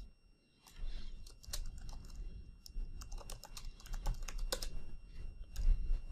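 Someone types quickly on a computer keyboard, with rapid, irregular key clicks close by that continue throughout.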